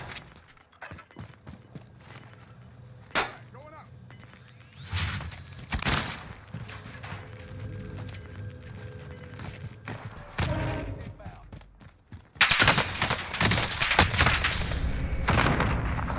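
Gunfire and booms ring out in a Call of Duty Warzone match: scattered shots and thumps at first, then a loud, dense run of shots near the end, with voices talking over parts of it.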